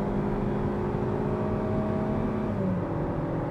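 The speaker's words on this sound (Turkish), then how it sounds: "Motor sesi güzel geliyor" A car engine drones steadily under load, its pitch slowly climbing as it revs toward about 6500 rpm before a gear change, heard from inside with a constant low rumble.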